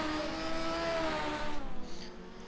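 Legends race cars howl down the home straight at the Hednesford oval in a loud, close engine roar that rises in pitch, then the note drops away as they pass, with no talking.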